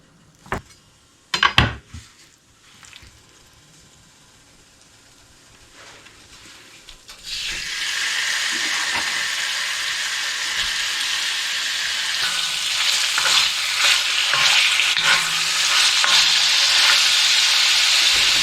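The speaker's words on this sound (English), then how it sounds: "And then we're going to add it to the wok." Cubed wild boar meat stir-frying in a hot wok: after a few knocks and clinks, a loud continuous sizzle starts and stays steady, close up with no talking.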